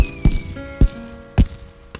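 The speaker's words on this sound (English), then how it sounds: "The fireworks are really loud, Grandpa." Three sharp cartoon firework bursts from a children's animated scene, each a short booming pop with whistling tones trailing between them, spaced roughly half a second apart, loud and close.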